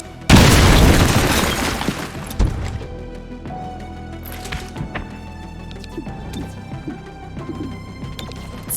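A frag grenade detonates in the video game X-COM: Chimera Squad with a loud, sudden boom that decays over a couple of seconds, followed by quieter impacts, debris clatter and tonal game sounds.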